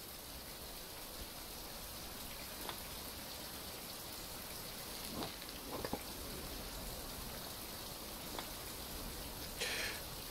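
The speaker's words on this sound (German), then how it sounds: "Das regnet doch schon wieder." Steady rain in the survival video game Survival: Fountain of Youth, a faint even hiss of falling drops with a few soft splashy ticks, no voices.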